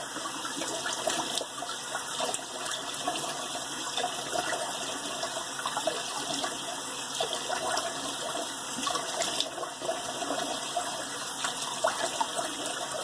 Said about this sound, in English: Let's do a cold water rinse.